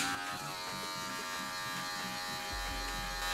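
Electric hair clippers fitted with a number 1 guard cut hair during a self-administered fade, a steady close buzzing hum that holds throughout with a slight shift in tone near the end.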